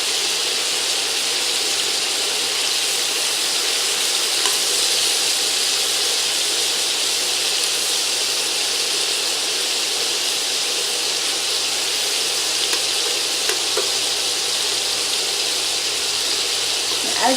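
Beef sizzles steadily as it browns in a hot frying pan, a loud, even hiss that continues without pause, with occasional faint pops and crackles.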